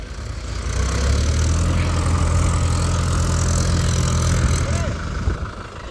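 Two Mahindra tractors, a 575 and a 585, run side by side in first gear with a loud, steady low diesel rumble that holds constant before easing slightly at the end.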